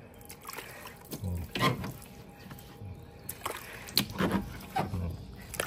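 Water splashing and trickling in short, uneven bursts while a car headlight is rinsed during restoration, quiet and close, with faint background noise between the splashes.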